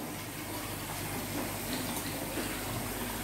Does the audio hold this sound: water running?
yes